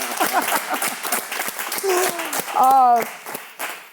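An audience at a live talk show event in Las Vegas claps in scattered bursts while a person keeps speaking over it.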